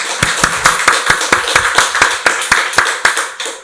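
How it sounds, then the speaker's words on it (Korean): A congregation at an Easter Sunday church service claps in unison, giving steady, evenly spaced loud claps at a brisk rhythm that run for several seconds without talk. "박수로 하나님께 영광 돌리겠습니다."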